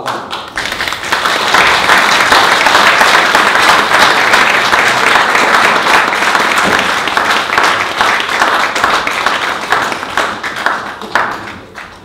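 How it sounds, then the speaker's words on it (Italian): Loud, close audience applause at an architecture and home-automation week event as officials are called up, dense clapping with distinct individual claps sustained for about eleven seconds before tapering off. "Un applauso."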